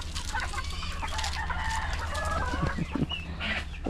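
Chickens cluck and squawk in alarm on a farm, agitated calls rising in bursts close by over steady background noise, with a rooster-like call among them.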